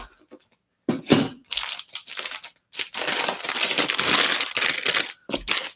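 Papers being crinkled and moved aside while crafting cards, loud close-up crackling and rustling in several bursts separated by short silences, with a longer continuous crumple in the middle.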